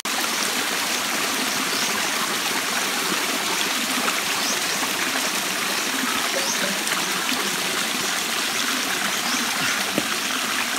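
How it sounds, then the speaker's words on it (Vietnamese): A jungle waterfall stream rushes and trickles in a steady, dense wash of flowing water, close and continuous throughout, with no talking. "Bây giờ bắt đầu mình phải leo hết cái đoạn thác đó."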